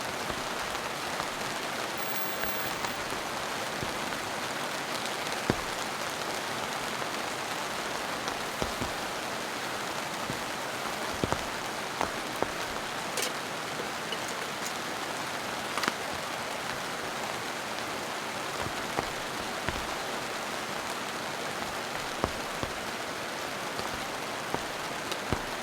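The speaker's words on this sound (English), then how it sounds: "I hope you're picking up this rain." Heavy rain drums steadily on a tent, a dense, unbroken patter that stays loud and constant throughout with no voices.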